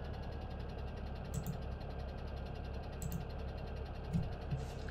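An IHC/CaseIH D family tractor engine in Farming Simulator 17 idles in a steady, low, quiet drone, with a few faint clicks on top and no voices.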